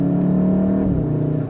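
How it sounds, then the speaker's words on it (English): Volkswagen Golf R exhaust drones steadily from inside the cabin while driving up a mountain road, a low continuous hum whose pitch drops slightly partway through, with no talking over it. "I'm pretty sure you guys can hear the exhaust within the cabin"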